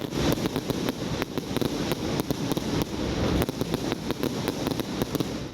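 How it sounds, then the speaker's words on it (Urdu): Fireworks set off on the lawn of Lahore Town Hall for an anniversary celebration crackle and pop in a dense, continuous barrage of loud bursts with no pause. "لاہور کی ضلع انتظامیہ کی جانب سے ٹاؤن ہال کے سبزہ میں شاندار آتش بازی کا مظاہرہ کیا گیا"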